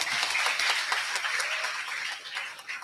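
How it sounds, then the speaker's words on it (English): Brief, fairly soft clapping from an audience at a youth conference, a short patter of hands lasting under three seconds. "Our young scholar, a round of applause."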